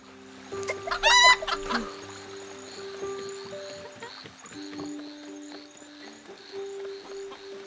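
A chicken in the Wild West game El Hijo gives a loud squawk early on, then scattered softer clucks over a steady hum and tonal game ambience.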